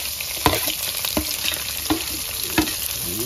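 Onion and green chillies frying in a pan for upma, a close, dense sizzle broken every half second or so by sharp stirring scrapes of a spoon against the pan.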